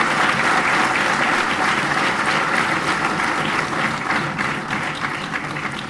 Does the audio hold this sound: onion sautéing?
no